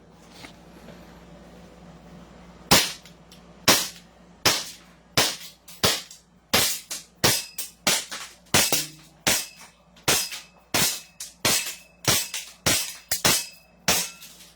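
An SRC Titan 1911 CO2 airsoft pistol fires about fourteen sharp, loud cracks in a steady, fairly quick sequence after a short quiet stretch, each shot standing alone with no talk.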